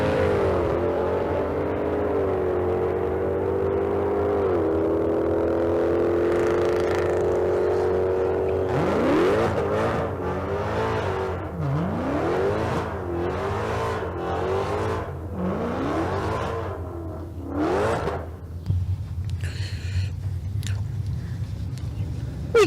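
Mopar drag racing cars at a Las Vegas street car event rev their engines, first a steady, droning idle, then repeated sharp throttle blips rising and falling, loud and outdoors, with an announcer talking throughout.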